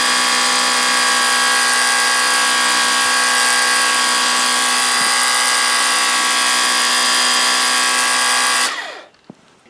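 A Ryobi Power Cleaner fitted with a 15-degree nozzle runs with a loud, constant motor whine and spray hiss close up. It cuts off sharply near the end, leaving near silence.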